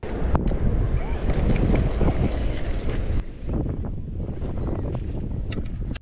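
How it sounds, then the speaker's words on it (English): Gusty wind buffets the microphone on Jennette's Pier in the Outer Banks, a loud low rumbling roar with surf behind it that eases slightly partway through. "I did my best with the wind noise in this video."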